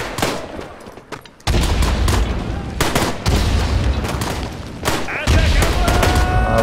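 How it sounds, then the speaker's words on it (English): Mortar fire in the World War I video game Tannenberg: a quieter opening followed by several sudden heavy booming blasts, with loud rumbling battle noise running between the impacts. "They're hitting us with mortar again"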